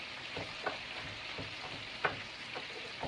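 A clove of garlic sizzles in a hot frying pan, a steady close crackling fry with occasional sharper pops and stirring scrapes throughout.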